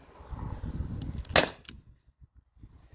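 A modified T4E HDP50 Gen 1 pistol at full power firing steel ball bearings: one sharp, loud crack up close, with a short metallic ring after it.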